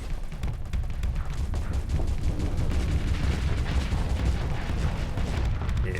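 Heavy Dreadnought cannon fire in the modded space strategy game Starsector, a dense, continuous barrage of booming blasts with deep low rumble sustained throughout, loud and without pauses.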